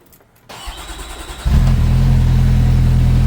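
A Kawasaki Teryx H2 side-by-side cranks briefly after a quiet moment, then its engine catches and settles into a loud, steady close-up idle that holds to the end.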